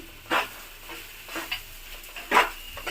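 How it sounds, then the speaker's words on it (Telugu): A spoon stirs sliced onions through seasoned puffed rice in a pan for Rayalaseema-style maramarala upma, giving soft rhythmic scraping and rustling strokes roughly once a second over a light sizzle. "మొత్తం ఈ ఉల్లిపాయలు అన్నీ కూడా మరమరాలు పట్టే విధంగా కలుపుకోవాలండి బాగా కలుపుకుని"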